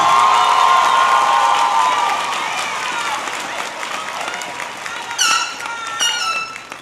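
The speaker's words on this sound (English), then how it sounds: "Please give Miss Kamori Dillard a round of applause as she comes." A crowd at a Martinsville High School graduation applauds and cheers a student speaker, loud clapping and high whoops at first, then thinning out while scattered shouts and whistles carry on near the end.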